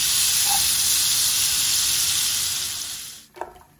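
Butter melting in a hot pan with sunflower oil gives a loud, bright, steady sizzle and hiss that fades gradually near the end, followed by a brief clatter.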